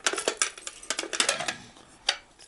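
Metal army mess kit pot being handled, a rapid string of sharp clinks and clanks of metal parts knocking together, close and fairly loud, with short pauses between bursts.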